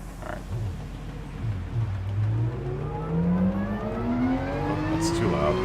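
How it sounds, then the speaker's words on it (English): A video game racing car engine at Autodrome Lago Maggiore whines and climbs steadily in pitch as it accelerates, with a faint background hum throughout. "I need to turn the volume up on the game because I can barely hear my car"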